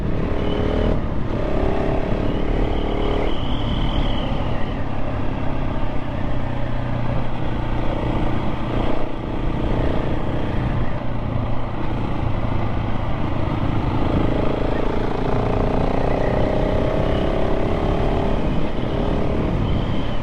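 A KTM 690 SMC-R motorcycle engine runs steadily throughout, loud and close with a continuous throaty drone and shifting pitch as the rider accelerates, with wind noise underneath.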